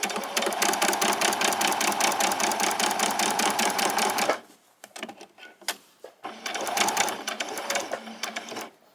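A sewing machine stitches summer shorts in a loud, fast, steady run for about four seconds, stops, then restarts for a short back stitch in brief uneven bursts.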